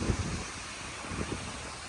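Storm wind of about 75 mph with stronger gusts roars and buffets against the microphone in a dense, rumbling rush, with low gusty thumps throughout.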